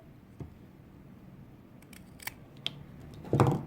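Scissors snip the ends of macrame cord while making a small doll, a few sharp isolated clicks spaced out, ending in a louder, fuller cut near the close, with no talk.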